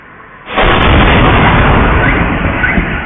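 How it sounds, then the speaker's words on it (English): A massive explosion from a Shahed drone strike in Russia's Rostov region erupts suddenly after a quiet moment, a loud sustained roaring blast with a deep rumble that holds for several seconds. "there's going to be a major explosion followed up with a loud sound"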